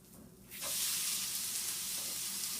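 Bacon cooking on okonomiyaki after a flip, a bright steady sizzle that swells in suddenly and holds loud and even, with no talk.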